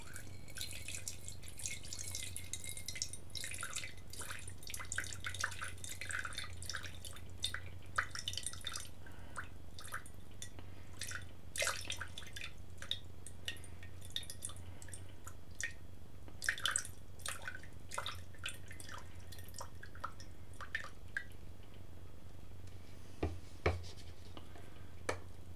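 Water poured into a container while mixing casein milk glue, heard as a thin trickle with scattered drips, splashes and small clinks over a low background hum.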